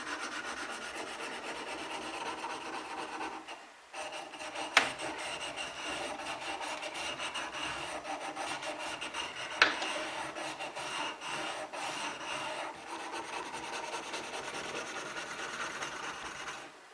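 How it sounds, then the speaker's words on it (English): The back of a chisel is polished on a sharpening stone with continuous close gritty rubbing strokes, broken by a short pause and a couple of sharp clicks, with no talking. "give it a bit of a polish on the stone. And go from end to end or across."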